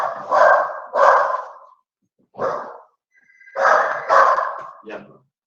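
A small pet dog barks in loud, close bursts, two quick barks, a single one, then a cluster of three with a brief yip at the end, with pauses between.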